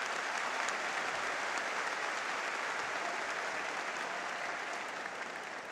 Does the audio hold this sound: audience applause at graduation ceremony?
yes